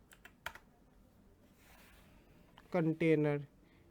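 Typing on a computer keyboard gives a few light clicks early on, then someone speaks briefly near the end.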